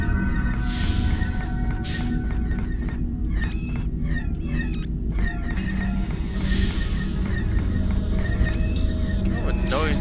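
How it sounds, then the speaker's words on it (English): A noisy spaceship engine in the video game Unreal Bounty Hunter, a steady loud droning rumble with whining tonal layers and periodic hissing bursts, heard under a talking voice. "Kind of a noisy spaceship."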